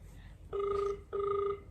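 A telephone rings twice, two even, bright electronic ring bursts with a short gap between them, over a quiet low background hum.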